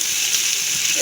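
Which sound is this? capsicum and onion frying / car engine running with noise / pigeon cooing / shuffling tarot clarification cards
capsicum and onion frying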